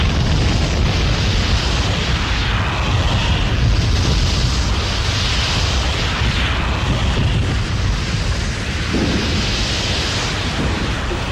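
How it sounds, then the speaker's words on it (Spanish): Volcanic eruption in Costa Rica with explosive blasts expelling rocks, ash and gas, a continuous loud, dense rumbling roar like rolling thunder filling the whole stretch without pause. "cada pocas horas expulsa piedras, cenizas y gases por medio de explosiones que producen el ruido de los truenos"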